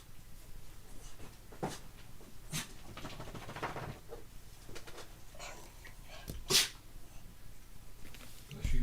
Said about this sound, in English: Bless you, Bob.